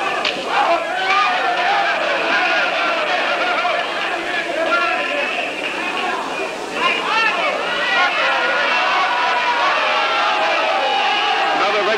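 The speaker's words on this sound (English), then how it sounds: "Another big turnaway crowd at our stadium here tonight" A large stadium crowd at a 1960s professional wrestling match roars and murmurs steadily throughout, a dense wash of cheering and shouting with swelling peaks, under a commentator's voice.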